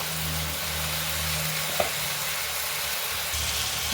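Chicken curry sizzling and hissing steadily in a hot pot after water rinsed from the marinating bowl is poured in, a continuous close frying crackle with a low burner hum beneath and one brief clink midway.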